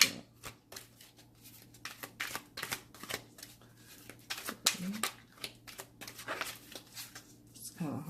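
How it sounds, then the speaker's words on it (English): Tarot cards from The Fountain Tarot deck being shuffled by hand, a run of crisp papery riffles and flicks across the whole stretch, close and fairly quiet, with a low steady hum beneath. "It's kind of hard to shuffle this way"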